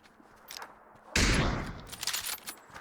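Video game gunfire: after a quiet moment, a sudden loud burst erupts, followed by scattered fainter shots and crackles trailing off.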